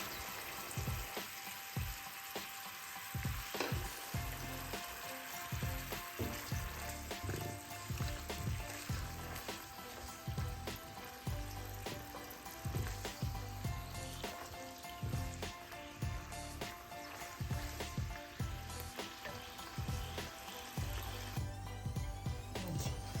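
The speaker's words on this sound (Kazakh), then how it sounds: "Етіміз қуырылып жатыр." Meat frying in a pan for a quick home-cooked evening meal, a steady, dense sizzle that runs unbroken throughout with occasional crackles and soft scraping, close and fairly quiet, no voices.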